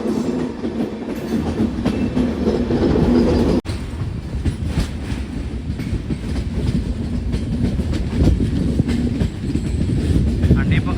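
A Karwar Express train between Mangaluru and Yesvantpur rumbles steadily along the rails, wheels clattering continuously up close, with a faint voice now and then under the noise.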